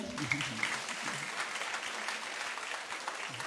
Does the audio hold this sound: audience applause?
yes